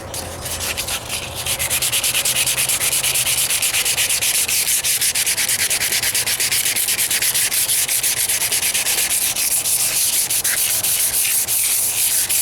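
Continuous, steady wet sanding of a 1998 Toyota Corolla hood with 180 grit sandpaper, a loud, even rubbing hiss that runs without a break for the whole stretch and carries no talk.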